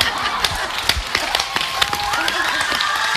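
A studio audience on a Spanish television show claps, with sharp irregular hand claps and a lively mixed rhythm, close and fairly loud, under a murmur of background crowd noise.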